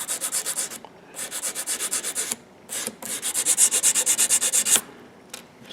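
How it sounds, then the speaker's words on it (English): Emery board from a woodcraft shop sanding rough edges on a wooden piece, rapid back-and-forth rasping strokes in bursts with short pauses, close and clear with no talking. "sand off any rough edges"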